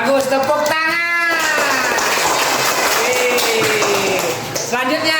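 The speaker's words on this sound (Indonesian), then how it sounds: "Ya, bagus, tepuk tangan." Children and adults in a classroom-style gathering clap together after a child finishes reading aloud, a dense burst of applause with voices and chatter over it, fading as a speaker resumes.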